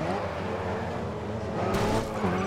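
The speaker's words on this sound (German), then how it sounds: "Andy, wieso fährst du durchs Gras?" A race car in the GRID Autosport video game driving through grass, a continuous loud engine drone with steady harmonic tone, joined near the end by a sudden rough hissing rush and a brief squeal-like shift.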